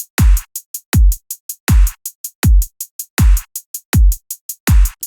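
Programmed electronic drum beat with a kick on every beat, a clap and a hi-hat on every step, playing a steady looping pattern, loud and dry with no voices.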